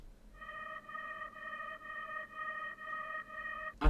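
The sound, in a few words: high vocal pad sample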